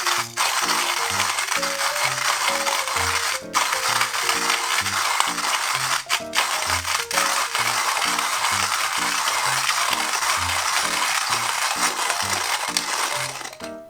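A Timemore C3 hand coffee grinder crushes beans in a steady, continuous crunching rattle with a regular rhythmic churn from each crank turn, close and fairly loud throughout.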